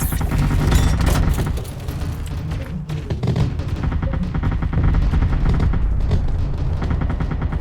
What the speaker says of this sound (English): Looks like our gun sentries have dealt with that lone mech.